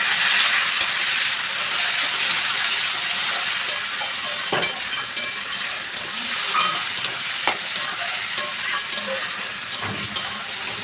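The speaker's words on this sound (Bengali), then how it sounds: "আমি একটু জল দিয়ে মশলাটার সঙ্গে সব কিছু ভালো করে কষিয়ে নেব" Spices and other ingredients for Bengali khichuri fry with a splash of water in a pan, a loud, steady sizzle broken by scraping stir strokes that come more often toward the end.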